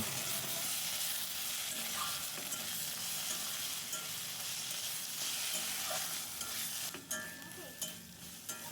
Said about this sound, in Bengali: এর ওপর দিয়ে দেব জিরে ও ধনে বাটা ও পরিমাণ মতো হলুদ দিয়ে কিছুক্ষণ ধরে কষিয়ে নেব।